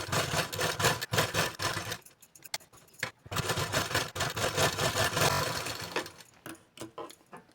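A sewing machine stitches double-layer blouse fabric in several close, rapid mechanical bursts separated by short pauses, with no talking.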